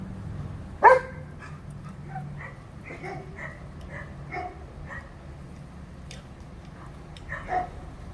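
Dogs bark a few times near the spin-down of a running 1965 Fedders Weatherwheel air conditioner fan with a metal blade, one sharp bark standing out early and softer yips following over a steady low hum.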